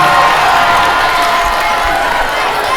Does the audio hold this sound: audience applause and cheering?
yes